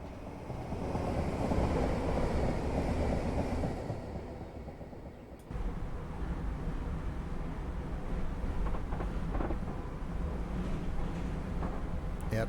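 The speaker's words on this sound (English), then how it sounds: "You can hear the tracks, you can hear the really loud buzzer, the wind noise." A Class 319 electric train running on the Midland Main Line from London St Pancras to Bedford in Train Simulator 2021, a continuous loud rumble of wheels on track with wind noise, a brief dip then resuming with faint clicks.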